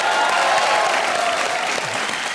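Studio audience on a Hindi comedy show applauds, a dense, steady wash of clapping from a crowd that carries on throughout.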